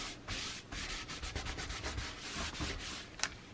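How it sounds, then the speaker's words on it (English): A painted surface is rubbed with a baby wipe in steady, close, scrubbing strokes of soft friction, with one brief sharper tap near the end and no talk. "Don't rub too hard, or you're just going to rub it right off."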